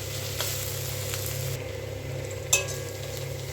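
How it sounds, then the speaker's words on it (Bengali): Onion, garlic and ginger frying in a pan for egg tarka hiss steadily up close, with occasional stirring and one bright utensil clink against the pan. "রসুন, আদাটা আমার ভালো করে ভাজা হয়ে গেছে"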